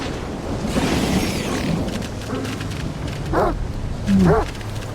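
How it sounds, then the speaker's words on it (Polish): Dogs barking in the video game STALKER 2: a couple of short, middling-distance barks and yelps over steady windy ambience, with faint outdoor noise between them. "A tu gdzieś jakieś pieski są."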